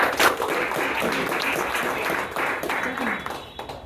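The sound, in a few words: audience applause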